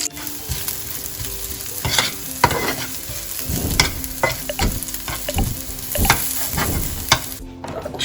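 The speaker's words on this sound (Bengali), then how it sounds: "আমি আজকে বেসিক্যালি একটা চাইনিজ এগ সসেজ দিয়ে একটা জাস্ট নর্মাল ফ্রাইড রাইস বানাবো" Fried rice with Chinese egg sausage is stir-fried in a kadai, a steady oily sizzle broken by regular scraping strokes of a spatula against the pan, loud and close.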